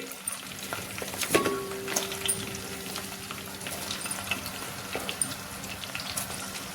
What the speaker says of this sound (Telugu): ఇప్పుడు వీటిని ఫ్రై చేసుకుందాం.